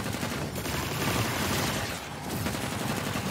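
Rapid gunfire blasting aliens in the action roguelite game Anvil: Vault Breakers, a dense continuous rattle of bullets and explosions filling the whole stretch with steady loudness and no speech.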